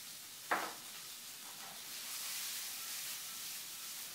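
Pancetta, blanched Brussels sprouts and quartered artichokes sizzle quietly in a pan. A brief sharp clatter sounds as food drops in, then a soft steady hiss of frying swells slightly.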